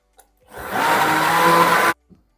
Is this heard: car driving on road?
no